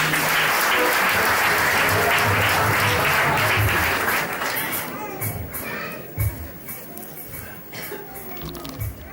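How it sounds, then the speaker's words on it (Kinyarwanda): Wedding guests at a civil marriage ceremony applaud in a dense, loud burst that fades after a few seconds into scattered claps and murmuring voices. "Amashyi menshi cyane."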